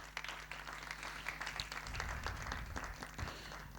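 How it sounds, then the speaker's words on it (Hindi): A church congregation claps for families at a Sunday meeting, a brief, moderately loud burst of scattered hand clapping from a small room. "जिनकी पूरी फैमिली यहाँ पे है उनके लिए जोरदार तालियां"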